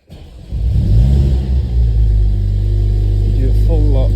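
A 2020 Mercedes A45s fitted with Eibach lowering springs starts up with a sharp bark, then settles into a deep, steady close-range idle rumble, with a brief rev blip near the end.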